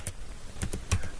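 A few scattered keystrokes tap on a computer keyboard, light and close, with uneven pauses between presses and no voices.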